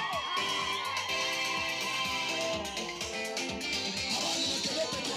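A crowd of women ululating in celebration at an International Women's Day gathering in Nyanturago, high trilling cries blending with cheering and voices, steady and lively throughout.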